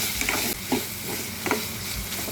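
Green chillies frying in a pan with crushed ginger and garlic, a close steady sizzle broken by the scrape and clatter of stirring.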